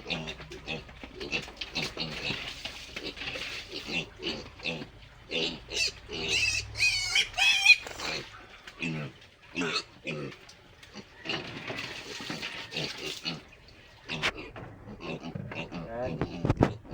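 Pigs grunt and oink in bursts on a farm while someone talks over them in Filipino, the animal calls close and mixed in with her speech.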